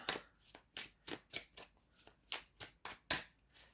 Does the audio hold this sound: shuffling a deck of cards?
yes